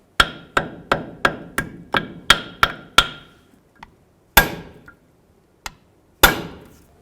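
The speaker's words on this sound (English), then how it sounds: "Let's go ahead and get that lined up and drive it in." A hammer drives a bushing into a brake caliper from a 1992–2000 Chevy Tahoe: eight sharp metallic strikes in a quick even rhythm, then a pause and a few slower, spaced blows. The sound is close and loud, with no talking.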